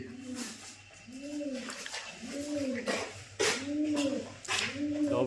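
Repeated soft pigeon coos in a rolling rhythm, several calls overlapping, fairly close, with a faint voice in the background.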